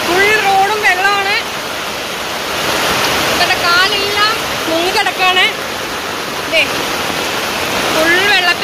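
Floodwater rushes over a road in Kochi in a loud, constant roar, with people talking over it throughout.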